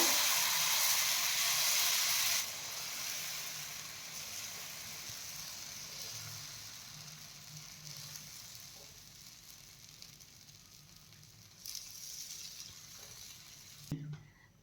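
Moong dal dosa batter sizzles on a hot oiled pan with a bright, steady hiss that is loudest at first, then settles into a quieter, even crackle with no talking.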